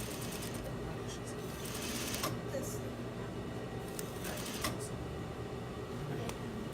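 A sewing machine stitches a shirt sleeve seam along the seam allowance, giving a steady close whir with light mechanical ticking, and a voice speaks over it.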